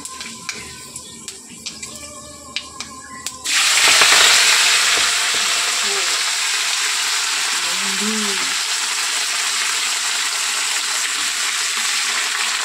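Vegetables hit a hot pan tempered with five-spice seeds and break into a loud, steady sizzle that carries on for many seconds, after a few light clinks of utensils.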